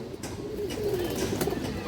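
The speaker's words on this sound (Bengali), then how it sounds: "পুরোনো লাইনের একটা খরা গলা নর কৌতর অনেক সুন্দর একটা কৌতর আছে" A male pigeon of an old-line Khora-necked breed coos in a soft, low rolling call, close and alone.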